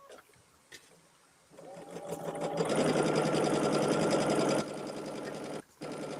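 A sewing machine starts up and runs at a steady, loud whirring pace while stitching quilt blocks, stops briefly near the end, then resumes; a few faint knocks come before it starts.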